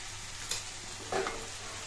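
Banana stem curry with mustard paste is stirred in a pan, with a couple of brief scraping clinks from the utensil over a soft, steady frying sizzle.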